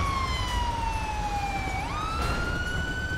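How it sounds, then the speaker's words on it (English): A police car siren in GTA 5 wails steadily and loudly, its rising and falling tone sweeping down then back up, over a low rumbling engine, with no talking. "Forgot my siren on."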